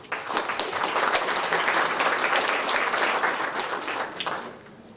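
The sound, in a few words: audience applause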